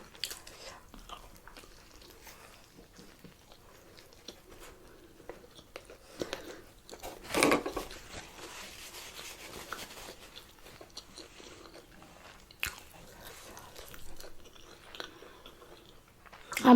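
Biting and chewing pizza topped with chili peppers, close, soft wet crunches and mouth sounds with one sharper bite partway through, over a quiet background.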